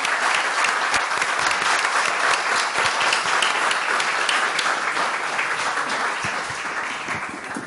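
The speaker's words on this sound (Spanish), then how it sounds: "yo creo que un fuerte aplauso para ellos" Sustained applause from a seated audience after a panel session at the San Sebastián film festival, with dense, steady clapping that fills the room and eases slightly toward the end.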